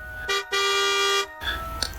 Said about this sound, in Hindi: भोला राम ने जल्दी से हॉर्न बजाया